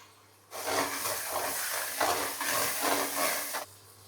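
Onions frying with ginger and garlic paste for a Bengali chicken curry, a steady close sizzle with stirring that starts abruptly and runs for about three seconds before cutting off.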